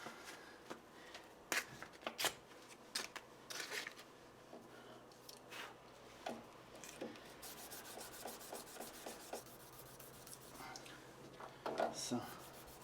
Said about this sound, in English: at the end I take this 600 grit sandpaper